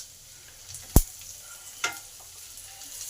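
Garlic and whole cumin seeds fry gently in a little white oil, a soft, steady sizzle broken by two sharp clicks of a spatula against the pan, with no speech.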